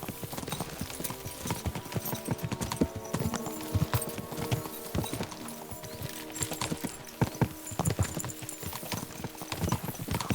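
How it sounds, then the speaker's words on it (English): Horses gallop with steady clip-clop hoofbeats in the video game Kingdom Come Deliverance 2, a close, continuous rhythmic pounding with occasional heavier thuds and no talk over it. "We should spur the horses on."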